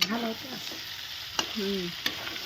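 A brinjal (eggplant) dish with onion, tomato, coriander and garlic crackles and sizzles in a pan, a close, dense frying hiss with a couple of sharp pops and faint tonal squeaks over it.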